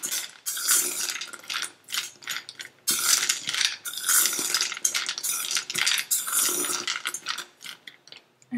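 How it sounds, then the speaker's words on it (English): Peanuts with a little water being mixed in a bowl produce loud, close, rapid rattling and clicking as the nuts tumble against each other and the bowl, in bursts with short pauses. "add little water on the peanuts and then mix them so that their surface is all wet"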